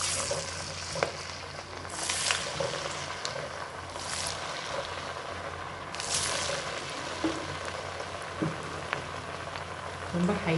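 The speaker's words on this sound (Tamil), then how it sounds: "அப்படியே எண்ணெயில் போட போகிறோம்" Bottle gourd vada batter fries in hot oil over a medium flame, giving a continuous close sizzle and bubbling hiss with occasional sharper pops.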